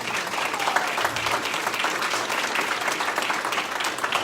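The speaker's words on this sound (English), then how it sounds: "Can we just get a round of applause for all of our volunteers" An audience at a candidate forum claps steadily and densely throughout, a continuous wash of applause at even loudness with no break.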